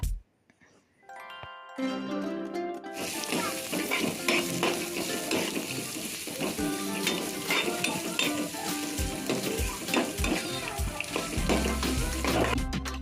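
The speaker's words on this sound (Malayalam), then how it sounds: "ഇനി ലേശം കറിവേപ്പില പിന്നെ നമ്മൾ നേരത്തെ അരിഞ്ഞു വെച്ച വെളുത്തുള്ളി ചുവന്നുള്ളി അതിൻ്റെ കൂടെ തേങ്ങാക്കൊത്തും കൂടി ഇട്ട് നന്നായിട്ടൊന്ന് വഴറ്റി കൊടുക്കുക" Curry leaves, garlic, shallots and coconut pieces sauté in a hot pan, raising a loud, dense, continuous sizzle that starts abruptly and carries on with scraping stirring noises throughout.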